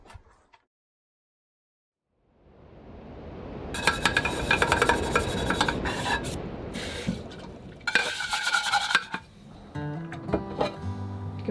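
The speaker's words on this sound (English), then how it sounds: "Doing dishes?" Dishes being washed by hand aboard a small cruising boat, with a steady wash of running water, rubbing and clinking of crockery and utensils that rises and falls in bursts, close and moderately loud.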